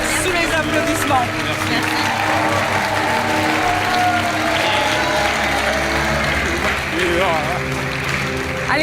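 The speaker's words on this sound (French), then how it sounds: "On vous laisse repartir sous les applaudissements." A television game show studio audience applauds and cheers loudly and continuously, with music playing underneath and an occasional voice mixed in.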